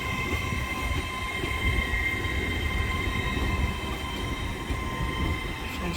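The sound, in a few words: Hull Trains 800 unit train coming to a stop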